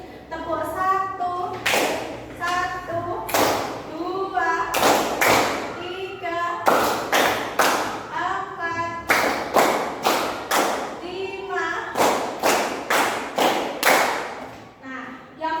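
A classroom of students claps hands together in sharp, unison bursts, each round of claps falling on a teacher's spoken count. The groups of claps come in a steady rhythm, with speaking between them.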